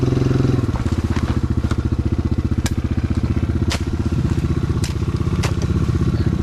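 A motorcycle engine chugs steadily and loud on a jungle trail, with rhythmic pulsing and occasional sharp clatters and snaps like branches or debris underneath.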